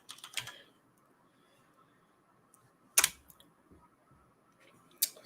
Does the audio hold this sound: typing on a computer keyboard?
yes